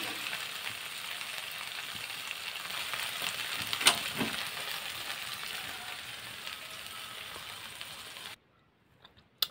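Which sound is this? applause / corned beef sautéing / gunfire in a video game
corned beef sautéing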